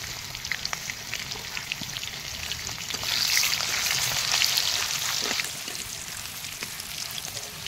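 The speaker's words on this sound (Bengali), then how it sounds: "এই তেল গরম হয়ে গেছে, আলুগুলো অল্প ফ্রাই করে নেব" Potatoes fry in hot oil for a biryani, giving a steady crackling sizzle with small pops, swelling louder in the middle and then easing back.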